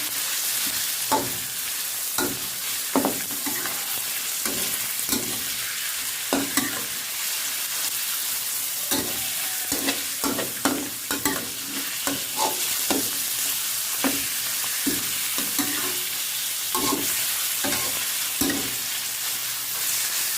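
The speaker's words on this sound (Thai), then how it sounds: "คั่วหมูให้สุกก่อนแล้วค่อยใส่หน่อไม้ค่ะ" Pork stir-fried with pickled bamboo shoots in a pan, a constant loud sizzle punctuated by repeated sharp scraping strokes of the spatula at an uneven rhythm, close up with no talking.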